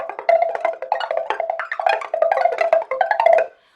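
Pipa played to mimic bubbling water behind a boat, with quick repeated plucked notes in an uneven, burbling rhythm, close and clear, ending abruptly.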